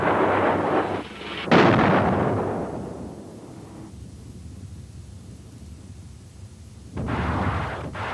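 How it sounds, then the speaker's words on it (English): A Durandal rocket-propelled anti-runway bomb detonates beneath concrete: a heavy booming blast that rumbles and fades over several seconds, followed later by another burst of roaring explosion noise, loud and distant-sounding with no speech. "Propelled by a rocket, it bores through the concrete and explodes deep underneath several seconds after impact."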